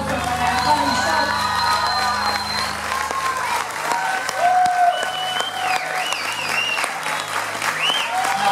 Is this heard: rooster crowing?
no